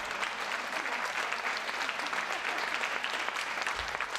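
Audience applause fills a keynote hall in a steady, dense wash of clapping from many hands, holding at an even level throughout without voices breaking through.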